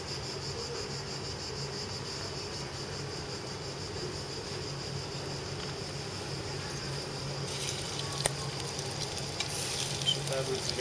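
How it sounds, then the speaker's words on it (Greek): Shrimp sautéing in hot oil for garides saganaki, a steady, faint sizzle with soft stirring and a few light clinks near the end. "Σοτάρουμε τις γαρίδες."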